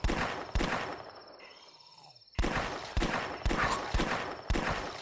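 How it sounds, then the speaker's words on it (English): Sharp gunshots from a .357 revolver and other guns crack at zombies in The Last Stand flash game: two quick shots, a pause with a fading tail, then a rapid regular string of five more, loud and close. "I like to fire a couple rounds in the dark because you can't actually shoot the zombies off screen."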